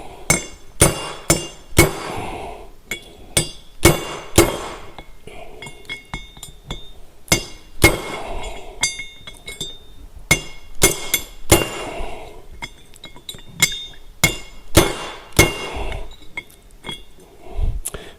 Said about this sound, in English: you need a 3/8 drift pin or a punch to where we can drive that out.